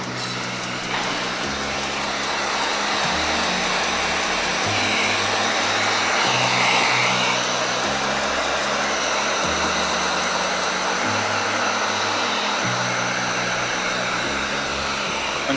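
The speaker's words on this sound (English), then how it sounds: "get my heat gun to warm up a little bit, put some heat on them" A heat gun blows a steady, loud, continuous airy whoosh while warming window tint film on a 2023 Tesla Model Y, running without a break for the whole stretch.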